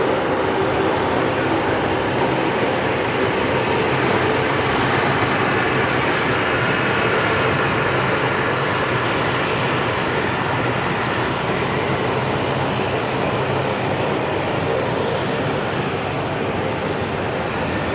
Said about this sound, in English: Qantas 943 heading to Perth off of 19 left.